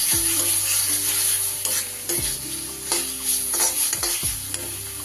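Spice paste for katla fish kaliya fries in oil with a soft, constant sizzle, while a spoon scrapes and thumps the pan in a repeated stirring rhythm, close and with no voices.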